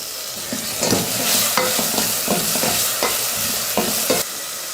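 Tomato sizzling in a pan with onion and garlic, steady frying hiss broken by repeated scraping strokes of a spoon stirring, heard up close with no talking.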